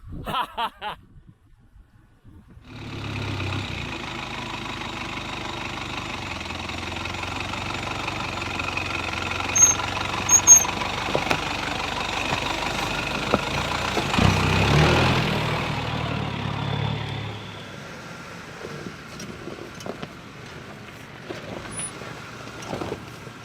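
An off-road vehicle drives through a sandy canyon wash in Wild Horse Canyon, its engine rumbling close and steady for about fifteen seconds before dropping to a quieter idle. Faint knocks sound underneath.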